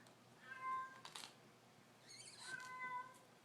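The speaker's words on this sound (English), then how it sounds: "My cat wants in the room." A house cat meows twice to be let into a room, each call a clear, fairly close, drawn-out cry with a short pause between, and no talking.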